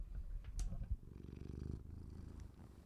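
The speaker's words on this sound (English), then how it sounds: "She says that with her purrs." A cat purring close by, a low steady rumble with rhythmic pulses that rises in the second half and continues without voices over it.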